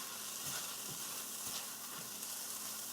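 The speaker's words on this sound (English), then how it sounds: "I'm just breaking the corned beef down" Canned corned beef sizzles steadily in a pan while a utensil breaks it apart, scraping the pan in a slow, regular rhythm roughly every half second; close, even and with no voices.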